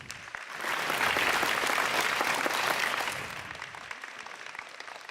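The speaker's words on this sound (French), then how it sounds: "On peut également les applaudir." Applause for a village social services team at a New Year's greetings ceremony in Cocumont, France, swelling after a moment, holding steady, then thinning to scattered claps.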